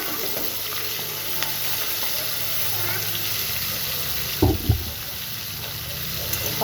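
Potatoes fry in a pan with a steady, low sizzle and faint crackle throughout, broken near the end by a couple of clattering knocks.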